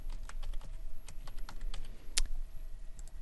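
Short bursts of keystrokes on a computer keyboard as a folder name is entered, light clicky taps close by with one sharper click near the end.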